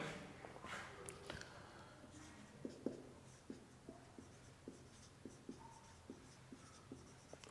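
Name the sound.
teacher writing more questions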